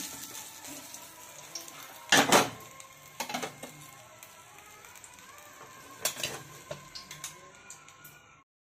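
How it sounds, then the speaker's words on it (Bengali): Fish frying in a pan makes a low, steady sizzle, broken by a few sharp spatters and clatters as pieces shift or are turned, close and moderately quiet, with no talking. "একই রকম ভাবে আমি এই মাছগুলো ভেজে নিচ্ছি।"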